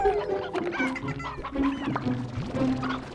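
Chickens in the Slime Rancher game cluck and squawk in a busy, overlapping chatter, close and fairly loud, with short rhythmic clucks and a few higher calls.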